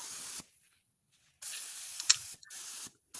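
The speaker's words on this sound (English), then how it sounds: "we're starting to apply the epoxy" A spray gun lays down PPG DP epoxy primer on a 1968 Dodge Charger body during restoration, with two separate bursts of steady hissing spray split by silence, close and moderately loud.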